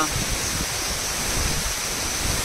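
A roadside waterfall in Nepal roars in a steady, dense rush of falling water, loud and close, filling the short stretch without a break.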